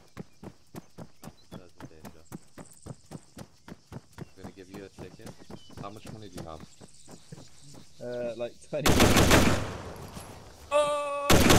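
Gunfire in a shooting video game, a steady run of evenly spaced sharp shots, followed by louder, denser bursts and noise, with a voice speaking over the later part.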